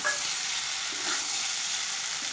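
Potatoes and four green chilies sizzle steadily in hot oil in a pan, a continuous close hiss with no talking.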